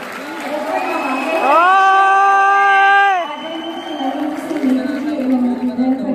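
Loud crowd cheering and whooping at a stage event honouring a singer, rising to a sustained roar with a shouted drawn-out voice, then fading into a murmuring crowd.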